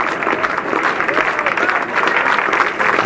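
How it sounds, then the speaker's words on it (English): Crowd applause at a 1971 England v Pakistan Test match at Edgbaston as a Pakistani batsman leaves the field, with steady sustained clapping and a commentator talking over it. "was generously applauded off the field by the entire England side"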